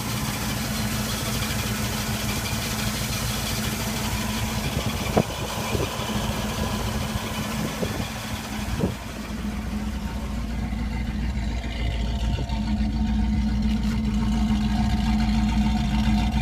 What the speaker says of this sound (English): Definitely got the muscle car sound to it.